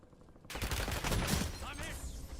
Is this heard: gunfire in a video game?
yes